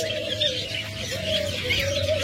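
Caged pet birds for sale give a continuous low, wavering cooing call, close and steady, with faint chirps mixed in and no talk.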